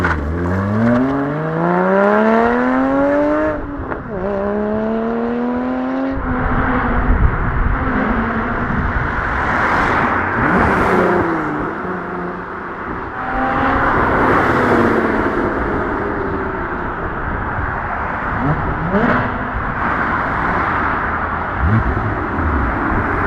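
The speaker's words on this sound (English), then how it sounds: "This is all the shopping traffic." Several cars pass one after another in weekend shopping traffic, each engine swelling and fading with rising and falling whine, fairly close, with a steady road hiss between them.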